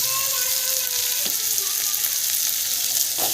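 Village-style food sautés in a pan with rock salt added, giving a loud, steady frying hiss. Occasional stirring scrapes come through, along with a faint tonal whine early on.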